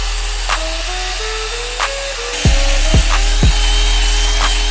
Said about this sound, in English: we're gonna go ahead and grind all of this away